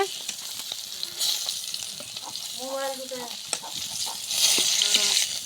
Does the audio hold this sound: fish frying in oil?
yes